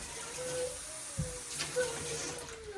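Cups of water poured into rava for a rava biryani cooked in Japan: a soft, steady splashing pour running throughout at moderate level, with a brief thud and faint background noise.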